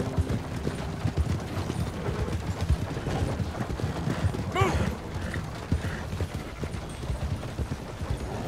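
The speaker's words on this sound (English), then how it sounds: "Morgan horse." A Morgan horse's hooves clip-clop steadily in the Red Dead Redemption 2 video game, moderately close, with some creaking tack and a brief whinny-like sound in the middle.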